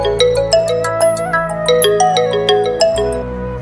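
A mobile phone ringtone plays while a call is being placed, a bright repeating melodic tune of chiming notes, steady and fairly loud, with no voices over it.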